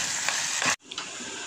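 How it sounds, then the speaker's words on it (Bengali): Tripe frying in hot oil gives a dense, bright sizzle that cuts out for a moment and then resumes at a steady hiss, close to the pan. "এটা হয়ে গেছে, জাস্ট আমি তেলে একটু ফ্রাই করে নিচ্ছি।"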